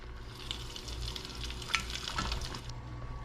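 Pork taquitos fry in oil in a pan, giving a steady, close crackling sizzle with a few sharper pops and light stirring clinks, no voices.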